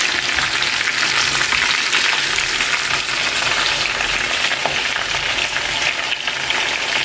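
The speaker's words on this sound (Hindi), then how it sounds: "बस दोनों साइड हमें इसे फ्राई करना है और उसको निकाल लेना है" Lahori-style fish frying in hot oil, a loud, dense, steady crackling sizzle that stays constant and close throughout, with no voices.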